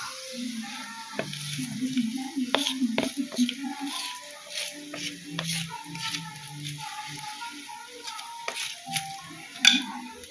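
Thick-cut potato slices frying in a pan at home, a soft, fairly quiet sizzle under scattered clicks and spatula scrapes, with faint low murmuring in the background.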